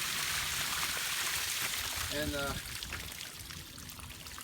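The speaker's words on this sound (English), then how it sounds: "Here comes the water." Water pours steadily from a homemade gutter downspout contraption outdoors, a loud, even rushing that fades slightly toward the end, with a brief spoken word over it.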